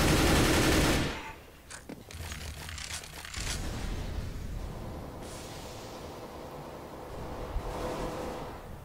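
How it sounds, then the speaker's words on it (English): Gunfire in the video game CS:GO, fired through a smoke grenade: bursts of rapid automatic shots at the start, then continued rattling fire and rumbling game noise, with no voices. "Zobotics is shooting through the smoke, maybe to catch off someone off rotation."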